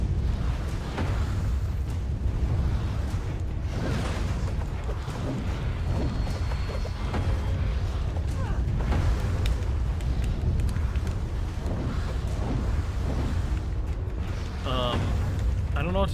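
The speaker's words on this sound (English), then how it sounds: "I don't know what to do about that cannon thing." Cannon fire and explosions in the video game Alice: Madness Returns, with cannonballs shot at sea enemies, heard as a dense, continuous rumble with recurring booms and mechanical clanks and no talk over it.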